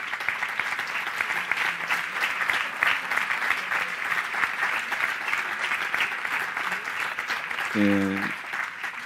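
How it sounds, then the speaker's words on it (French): An audience at a conference applauds the suspended health workers, a continuous, moderately distant patter of many hands that holds steady, with a brief voice cutting in near the end. "Vous pouvez applaudir les soignants suspendus"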